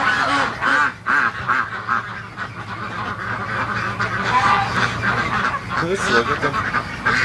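Muscovy ducks and ducklings call in a pen where geese are also kept, with loud overlapping honks and quacks running throughout and a person talking over the birds.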